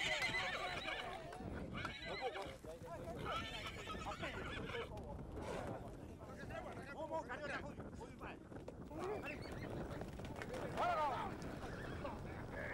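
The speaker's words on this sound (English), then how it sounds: "About 20 horses will be captured." Horses on Ua Huka in the Marquesas whinny and neigh repeatedly during a roundup, amid a jumble of hooves clopping on the ground, with a busy outdoor rumble underneath.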